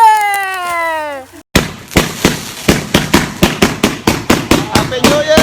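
Firecrackers go off at a New Year celebration: after a brief rising whistle-like tone, a long, rapid string of loud, sharp pops and bangs bursts out close by, one after another.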